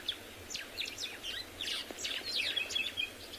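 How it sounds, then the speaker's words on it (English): White-browed sparrow weavers call on a South African morning safari, a lively series of sharp, chattering chirps and quick descending notes from several birds nearby, over faint background hum. "Beautiful sharp notes from the white-browed sparrow weavers."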